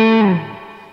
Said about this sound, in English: So I'm going to play it without a lot of drive, just all signal boost right here.